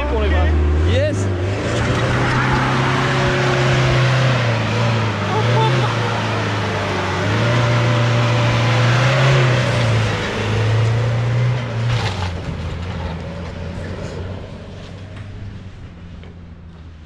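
A car revs hard during a burnout with tyre smoke, its loud engine drone rising and falling in pitch for the whole stretch before easing off near the end.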